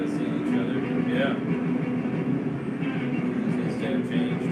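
A train runs on rails through a heavy snowstorm in a TV drama, a loud, steady rolling rumble with metallic rattle that fills the whole stretch, with faint voices over it.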